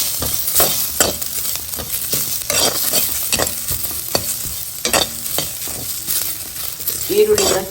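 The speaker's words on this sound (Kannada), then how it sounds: "ಈರುಳ್ಳಿನ ಚೆನ್ನಾಗಿ ಹುರ್ಕೋಬೇಕು." Onions with turmeric fry in oil in a pan, a steady sizzle broken by repeated close scrapes and clacks of stirring, with no voices over it.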